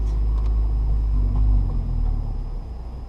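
A manual-transmission car engine rumbles low and steady while driving slowly around a parking lot, swelling slightly as gas is applied with the clutch let up, then settling lower.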